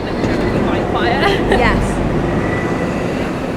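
Train rumble under a packed match-day service before a Newcastle United versus Arsenal game, with a steady loud clatter throughout and a voice talking over it.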